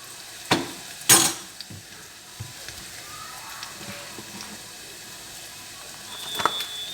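An egg frying in a pan gives a faint sizzle beneath sharp clinks and scrapes of a utensil stirring and tapping against the pan, with a few louder knocks early on.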